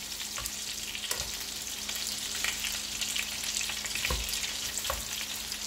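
Prawns fry in plenty of butter in a pan, a close, continuous sizzle broken by occasional stirring scrapes and clicks, with no talking.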